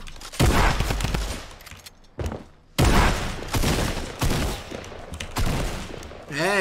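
Rapid bursts of gunfire in the video game Fortnite, loud clustered volleys separated by brief pauses, with a shooting exchange happening below the player.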